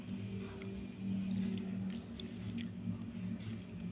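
Someone chews martabak, the stuffed Indonesian pancake, indoors as rain is about to fall, with soft, close, wet squishy bites running steadily over a low background hum.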